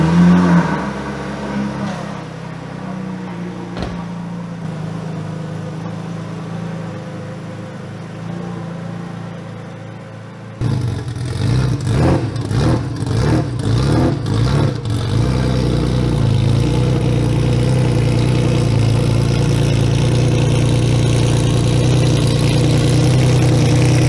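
Porsche Carrera RSR race car on the street, starter cranking with rapid pulses before the engine catches and settles into a loud, steady, rumbling idle.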